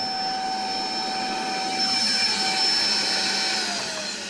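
A vacuum cleaner runs continuously during roof improvement work, a loud, steady whirring drone with a high-pitched whine that holds level and then dips slightly near the end.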